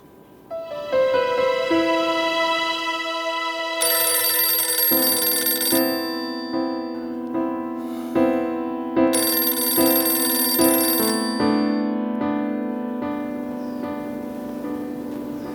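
A phone ringtone plays loudly in repeated melodic bursts for about fifteen seconds, ringing on with no one answering and no talking.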